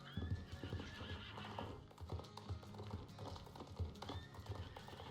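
Horses at a horse fair during a western festival, with hooves clip-clopping and occasional whinnies amid a busy outdoor crowd murmur, fairly distant and low in level.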